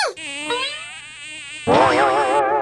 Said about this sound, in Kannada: ಸೊಳ್ಳೆ